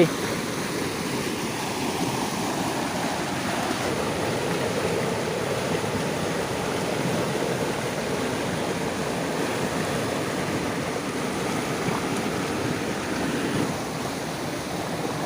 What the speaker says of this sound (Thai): เป็นน้ำตกลับๆนะครับ ผม ซึ่งเป็นน้ำตกของหมู่บ้านนะครับ